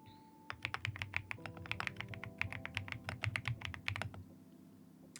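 Thocky typing on a mechanical keyboard fitted with rounded marshmallow-style keycaps, a steady run of soft, deep keystrokes with close, muffled clacks and a low hum underneath.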